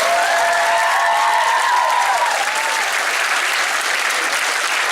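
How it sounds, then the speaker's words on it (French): Audience applause fills the hall after an opera pop performance of Perséphone, a dense, steady wash of clapping from a large crowd, loud and continuous, with faint sung or whistled tones drifting above it early on. "On peut aussi applaudir Ryushi qui a fait un très beau Zeus."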